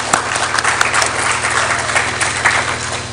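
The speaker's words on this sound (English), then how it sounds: "let's give a round of applause to Mibawa Television" Steady applause from an audience at a Baptist church debate between teens and parents in Blantyre, dense clapping sustained throughout at moderate loudness.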